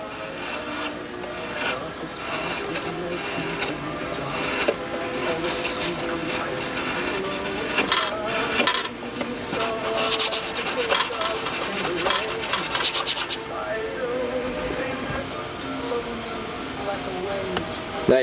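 Hand carving wood with a blade, a continuous scraping and rasping of shavings being taken off, close and steady, with a faint background tune.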